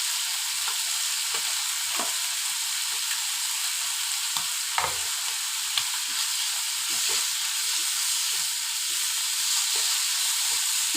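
Thoran, a coconut vegetable dish, sizzling steadily in a pan, a continuous bright frying hiss with occasional soft stirring scrapes, no voices.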